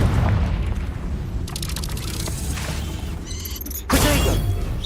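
Casting the Confringo fire spell in Hogwarts Legacy produces a whooshing magical burst and a crackling, fiery impact, with mechanical creaks in the combat around it and a louder flare near the end.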